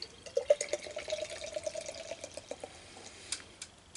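Mannes Baspilsner, a pale lager from Revsunds in Jämtland, is poured into a glass, giving a faint, close splashing and fizzing trickle with small irregular drips that fades toward the end.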